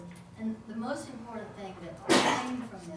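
A single sharp sneeze breaks out at a town council meeting, loud and close, cutting across a man's ongoing speech.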